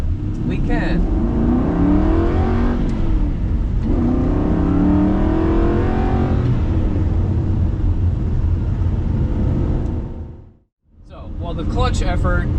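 A 2007 Aston Martin Vantage with a six-speed manual gearbox accelerates hard, its engine note loud and continuous as it climbs through revs, then dips briefly near the end at a shift before pulling again; someone talks over it.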